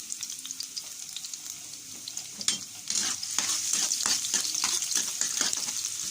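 Pork pata sizzles and crackles in hot oil in a pan while being stirred until golden brown, a steady close frying hiss that swells louder halfway through with scraping stirs.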